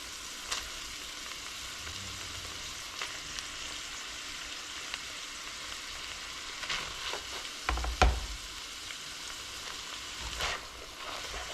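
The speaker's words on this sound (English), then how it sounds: "Okay, I'm going to add the onions now." Onions and peppers fry in a pan with a soft, even sizzle, punctuated by a few clinks and scrapes of stirring, with one louder knock near the middle and no talk.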